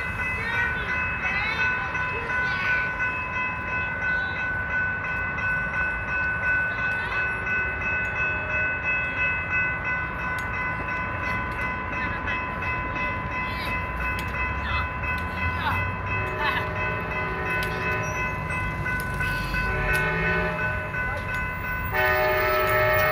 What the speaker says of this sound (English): Train's coming, move out of the way.